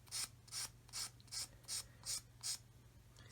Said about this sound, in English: And then with the 220 grit, I'm just going to gently scrape over here.